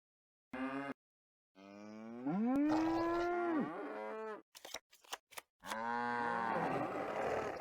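Cartoonish cows moo in a Nancy Drew game, The Captive Curse, two or three long drawn-out lowing calls with bright harmonics, close and loud, separated by short clicks and pauses.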